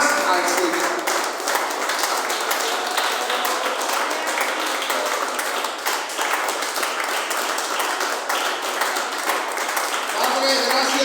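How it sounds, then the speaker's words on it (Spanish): A church congregation claps and applauds steadily and loudly, a dense wash of hand claps sustained throughout with no break. "Denle una ofrenda de palmas al Señor."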